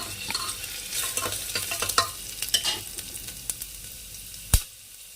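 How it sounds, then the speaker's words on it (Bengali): Potato pieces frying in a pan for a Bengali dal dish, stirred with scattered spatula scrapes and clinks over a faint sizzle, ending with one sharp knock, with no voices. "এই যে আলুটা ভেজে নেবো একটু নাড়িয়ে নিলে ভালো হবে"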